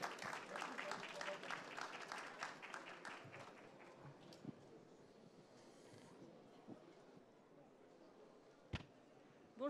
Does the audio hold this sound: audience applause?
yes